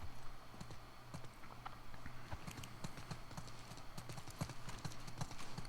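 Horse hooves clip-clop in a video game, a steady run of sharp hoofbeats over a low background hum, with faint talk mixed in.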